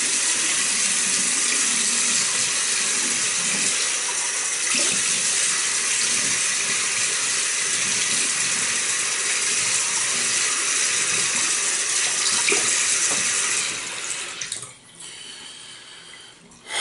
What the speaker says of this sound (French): Je me rince la figure